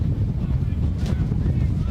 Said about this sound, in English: And it is as windy as it has ever been, Micah, for the quarterbacks out here